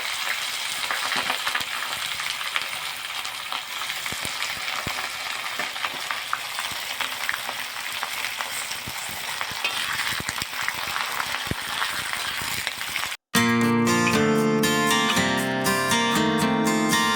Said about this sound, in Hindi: चलो इसको अब फ्राई कर लेते हैं